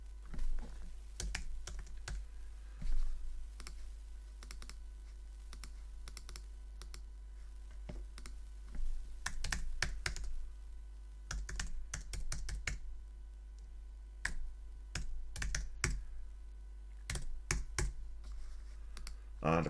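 Rapid bursts of typing on a computer keyboard while a sign-up form is filled in with name, email and password, close and clear, with irregular clusters of key clicks separated by short pauses.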